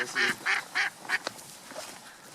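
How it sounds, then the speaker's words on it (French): A wild duck calls from a hunting hide in a Charente-Maritime marsh, giving four or five loud quacks at an even pace, followed by a few fainter calls. "Un beau canard."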